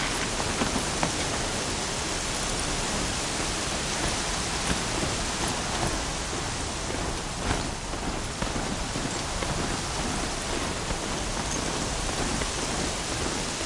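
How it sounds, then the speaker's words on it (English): Video game rain falls as a dense, steady downpour, a loud continuous hiss with no pauses, no thunder claps and no voices. "Here comes the rain."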